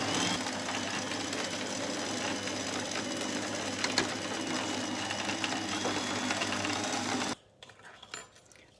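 Electric mixer beating flour into peanut brownie batter with a guard fitted, producing a loud, steady motor whir with a rhythmic mechanical hum close by that stops abruptly near the end, leaving quiet room sound.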